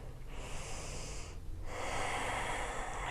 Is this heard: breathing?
yes